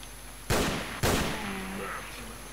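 Two loud gunshots ring out about half a second apart in S.T.A.L.K.E.R. Shadow of Chernobyl, each a sharp close blast with a ringing decay, followed by faint tonal game sounds.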